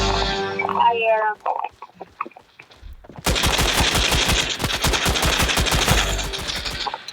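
Pistol gunshots in a video game: after a voice speaks and a few scattered shots ring out, a long, loud, rapid string of sharp bangs follows in an even, fast rhythm.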